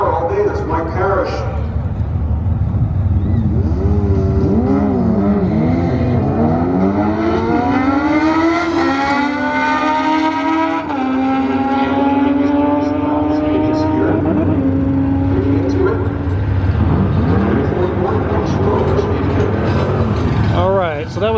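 Suzuki Hayabusa motorcycles drag racing at Albuquerque Dragway: a loud engine roar rises in pitch through the gears, then holds a high whine before fading, with a commentator talking over it.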